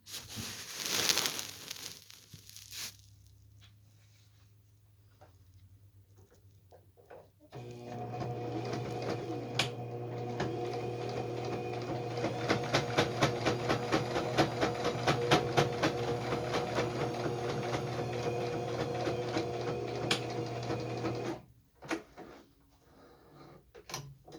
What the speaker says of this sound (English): I drew a line, and I'm going to go ahead and sew it